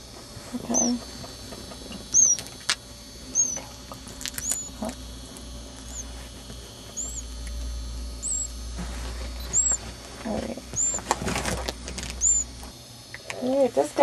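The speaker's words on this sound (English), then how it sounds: "Hear him? He's cheeping." A baby parakeet cheeps from inside its egg while hatching, giving a series of faint, high, evenly spaced peeps over soft handling rustles and a low background rumble.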